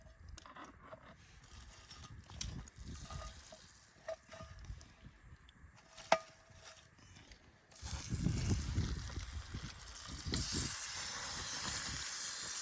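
Shrimp flambéing in butter, a steady broadband sizzle and hiss that swells loudly partway through as the flames catch, with scattered pops and crackles and no talking.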